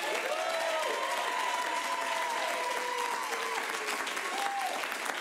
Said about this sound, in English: if you'd like to see Hallie's movie continue, please applaud now